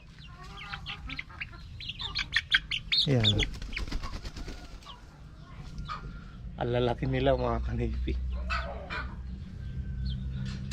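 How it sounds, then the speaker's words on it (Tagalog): Chickens cluck and squawk close by in short bursts while someone talks over them. "mababait tong mga manok natin"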